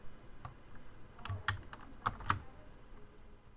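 Computer keyboard keys tapped while working in Cubase, a few sparse, quiet clicks scattered across a few seconds with no speech, faint and close.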